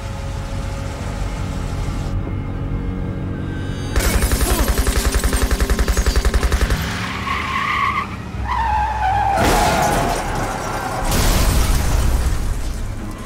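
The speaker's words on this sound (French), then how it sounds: "Des balles de Uzi, hein." Uzi fire in the Def Jam Vendetta fighting game comes as loud, rapid bursts of automatic shots in a dense rattling stream, mixed with screeching skids and blasts, with no talk.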